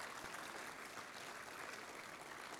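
Wedding guests applaud the newlyweds: a steady wash of many hands clapping, faint and distant, with no break across the moment.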